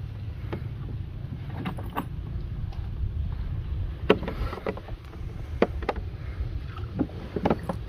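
A small boat rowed on a river among water hyacinth in Đồng Tháp, Vietnam: soft, irregular paddle splashes and knocks over a low rumble of wind and water.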